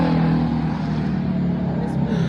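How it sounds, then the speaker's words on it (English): Loud cars on a road roar past in a continuous, heavy engine drone, close and dominant, with a steady low rumble that persists across the whole moment. "All these unnecessary loud cars"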